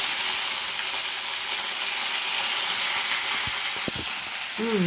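Eggplant pieces fry in hot oil in a pan with peanuts, urad dal, mustard seeds, garlic and curry leaves, giving a loud, steady, close sizzle and hiss, with a few scrapes of stirring near the end and no talk.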